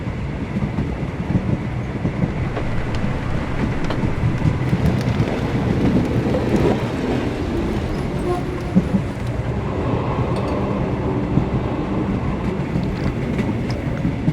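A train runs continuously in the video game Sherlock Holmes The Awakened, with a loud steady rolling rumble and clattering wheels throughout, with no voices heard.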